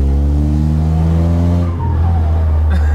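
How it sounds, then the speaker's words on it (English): A loud car engine with an exhaust leak revs hard, a deep droning roar with a rising pitch that dips briefly near the end before climbing again, echoing off a nearby wall with no voices over it. "the engine's so loud because of the exhaust leak"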